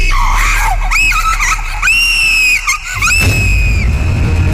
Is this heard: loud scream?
yes